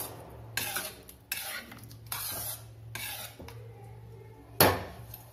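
Spinach chickpea curry (palak chole) with garam masala stirred in a pan, repeated scraping strokes of a spoon across the pan in an uneven rhythm, close and clear with no talking.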